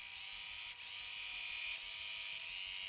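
Home sewing machine stitching a border onto a jelly roll quilt, a steady fast mechanical whir running continuously and close, with two brief dips where the stitching pauses.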